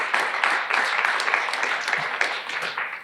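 Audience applauding at a prize ceremony, dense clapping from a crowd that carries steadily for a few seconds before easing off.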